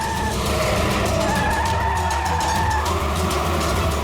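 A van swerves and skids on the road, tyres squealing continuously over loud traffic and engine roar for several seconds.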